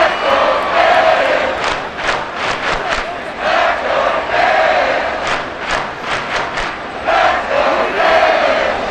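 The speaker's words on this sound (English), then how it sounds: "This crowd doing all they can." Large NFL stadium crowd cheering and roaring at a Titans vs Dolphins Monday night game, a loud sustained wash of voices with rhythmic surges of chanting, distant and massed.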